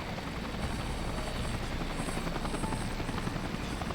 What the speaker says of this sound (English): just happened to have a helicopter to drop down after Zack and everybody left